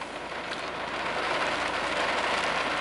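Heavy typhoon rain pelts surfaces in a dense, steady roar, loud and close, with no voices over it.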